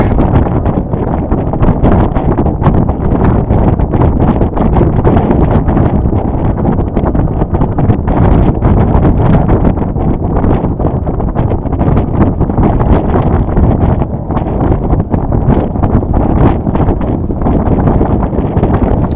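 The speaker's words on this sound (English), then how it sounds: "Lot of wind right here." Heavy wind buffets the microphone aboard a Potter 15 sailboat, a loud, constant low rumble with gusty pulses and no clear voices.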